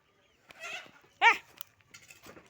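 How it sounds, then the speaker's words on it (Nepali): A goat bleats a few times nearby, short wavering calls separated by quiet pauses, with faint rustling in between. "बाख्रा आगायो।"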